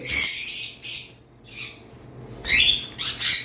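Sun and pineapple conure parrots squawk in a series of loud, harsh, close bursts, about five separate calls with short pauses between them.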